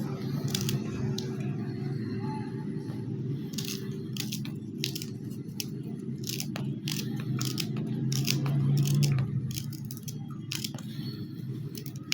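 Scissors snip through stalks of green garlic in quick, repeated crisp cuts close by, over a steady low background hum.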